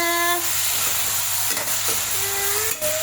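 Dried fish being sautéed in a pan with fenugreek and salt: a steady close sizzle with stirring clinks and scrapes, running continuously and almost free of talk.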